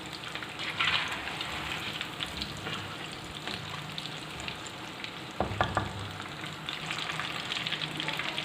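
Cheesy pasta squares deep fry in hot oil, a continuous crackling bubble with scattered pops, interrupted midway by a brief clatter as the pieces are moved, then bubbling on steadily.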